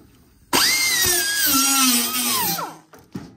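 A power tool grinds rusty steel edges bright ahead of welding on a V8 Hilux floor pan replacement, a loud, near, high whine lasting about two seconds with a falling pitch, then cutting off and briefly restarting.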